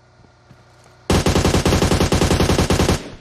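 Automatic gunfire in the PUBG Mobile video game: after a quiet moment, a loud, rapid burst of evenly spaced shots rattles for about two seconds, then cuts off.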